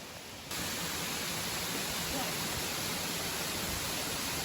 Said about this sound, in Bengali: ফাইনালি আমরা মুখপোছড়া ঝর্ণায় পৌঁছেছি।